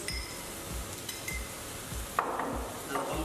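Pumpkin poriyal with ground coconut and chillies is gently stirred in a pan, giving soft, rhythmic spatula scrapes and faint sizzling, with one sharper clink partway through, all quiet and close.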